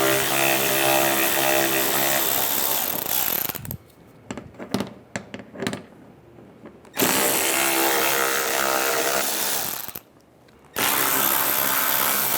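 A power tool with an 8mm socket whirs loudly and steadily, removing screws from the engine shield underneath a 2006-2009 Mercedes E350, with a pause of clicks and clatter between runs.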